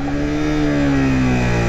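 A motorcycle without ABS downshifts from second to first gear at about 50-60 km/h, its engine braking. The engine holds a loud, continuous drone close by, its pitch sliding slightly lower throughout.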